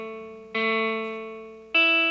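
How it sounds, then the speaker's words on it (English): Two sustained electric tones from an Elektron Digitakt, each swelling in and ringing out with a long, slowly fading reverb tail, decay set to 87, that fills the space between notes. "And then for the reverb, the decay, we're going to really increase this one"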